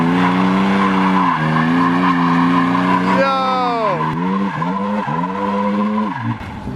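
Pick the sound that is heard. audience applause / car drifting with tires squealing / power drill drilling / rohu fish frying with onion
car drifting with tires squealing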